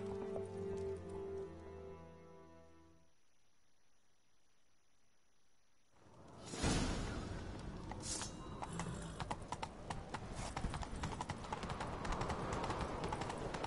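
Horse hooves gallop at a steady clip-clop in The Witcher 3, loud and close after a brief quiet stretch, joined by a rush of wind and game music.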